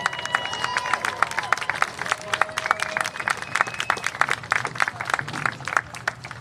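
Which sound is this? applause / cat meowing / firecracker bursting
applause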